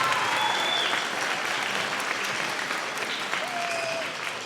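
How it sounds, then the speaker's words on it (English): Audience applause at an elementary school beginning band concert, a sustained patter of many hands clapping that slowly thins toward the end, with faint voices in the background. "So let's give them a big round of applause."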